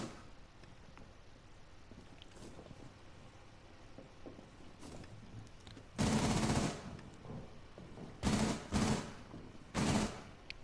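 Gunfire in Rainbow Six Siege gameplay: a quiet stretch of faint game ambience, then several loud automatic bursts close by, each lasting about half a second to a second.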